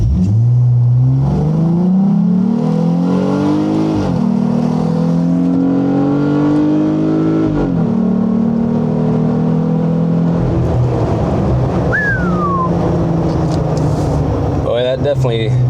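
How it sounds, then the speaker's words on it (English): A car fitted with a cold air intake and Flowmaster exhaust accelerates hard. The loud engine note climbs in pitch through successive pulls with brief drops at each shift, heard up close from inside the vehicle. "once you stab the throttle, man, you hear it under the hood. It sounds really cool."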